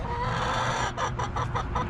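Backyard chickens clucking steadily at close range, with a run of distinct rhythmic clucks in the second half and no talking.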